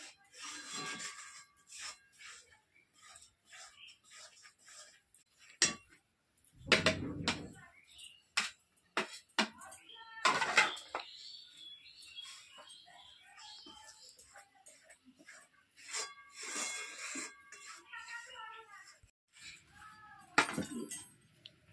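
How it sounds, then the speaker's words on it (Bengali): Maida flour is worked by hand in a bowl, giving quiet, intermittent rubbing and scraping with occasional light clinks against the bowl's side. "আমি ময়দাটা মিশিয়ে নিচ্ছি একই রকম ভাবে"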